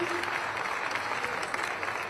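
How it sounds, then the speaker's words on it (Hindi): Continuous crowd applause at the closing ceremony of the Gorakhpur Mahotsav festival, a dense, steady patter of many hands heard at moderate, somewhat distant level for a couple of seconds. "आपकी अनवरत तालियां मंच तक अपनी प्रेषित करें।"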